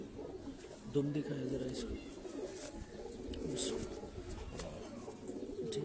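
Pigeons give soft low coos close by in a loft while people talk about the birds, with faint chirps and light handling noises around them.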